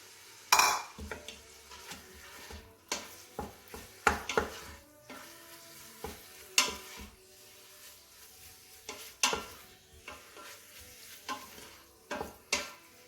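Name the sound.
ground beef added to Instant Pot on saute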